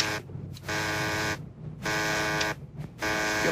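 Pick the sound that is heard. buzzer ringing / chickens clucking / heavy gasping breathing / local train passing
buzzer ringing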